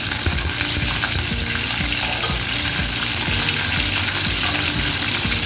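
Curry leaves and green chillies crackle in hot oil in a pan, a constant close sizzle broken by regular scraping knocks of a spatula stirring.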